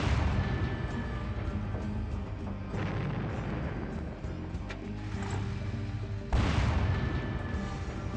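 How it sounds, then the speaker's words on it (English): Artillery shelling in Final Liberation: Warhammer Epic 40k, a continuous rumbling bombardment of distant booms and blasts with a sharper, louder impact near the end. "I'm also going to bombard them, pelt them with shells."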